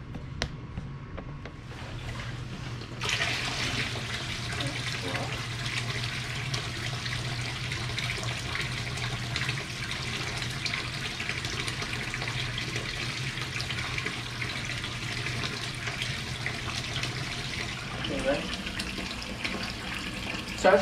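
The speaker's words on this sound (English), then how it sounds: "So as you can see, the rocks are allowing the water to cascade evenly" Water cascades over rocks in an indoor turtle pond, a steady trickling, faucet-like flow that starts small, swells after a few seconds and continues evenly and close, with no talking.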